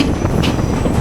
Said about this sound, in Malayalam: സിംഗിൾ ട്രാക്കിൽ കൂടെയാണ് ഈ ഒരു ട്രെയിൻ ഓടിക്കൊണ്ടിരിക്കുന്നത്.